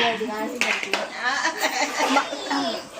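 Pots and pans clatter during home cooking of dal and tomato, with a few sharp metallic knocks under close conversational talk.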